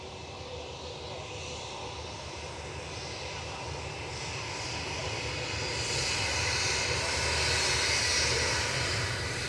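A Turkish Airlines A321 jet on approach at Manchester Airport roars steadily and grows louder as it draws closer, with a broad engine rumble filling the background.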